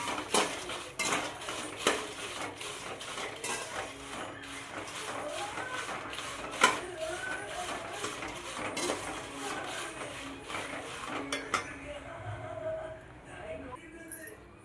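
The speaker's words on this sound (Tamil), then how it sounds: "இதுக்கப்புறம் வரமிளகாயை போட்டு வறுத்து எடுக்கணும்" Dried red chillies roasting in a pan for idli podi, with frequent metallic clinks and scrapes of a spoon stirring against the vessel, close and busy, fading near the end.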